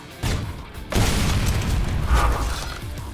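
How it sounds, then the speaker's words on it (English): Torque Bow grenade crossbow from Gears of War firing, a sharp launch followed by a deep, heavy booming blast that rumbles and trails off, loud and close, with no speech. "It's actually a locust weapon, and really what it is a crossbow that fires grenades."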